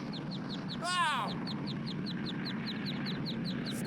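Ducks quack once fairly close amid faint rhythmic chirping and a low steady background hum, with no other loud sounds.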